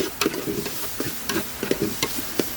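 Shrimp paste (bagoong) being stirred into a sauté in a pan, with scraping utensil strokes and soft clicks over a steady background sizzle, close and moderately loud, no voices.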